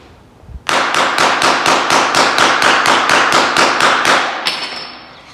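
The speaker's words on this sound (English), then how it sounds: "If only I had a hammer. I go over here. Yeah, good bust. I'm gonna beat the crap out of this stuff." A hammer pounds durable flooring in a rapid, steady series of about fifteen loud, sharp strikes, close and evenly spaced, ending abruptly with a brief ringing tail.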